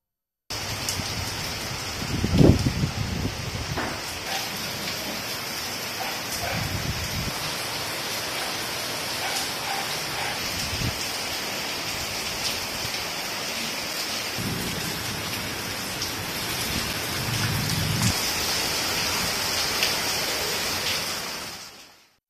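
Heavy rain pours steadily for about an hour in the Meddu Koottapalli area, flooding the roads with running water: a dense, continuous hiss of downpour with a few low rumbling thumps, and no voices.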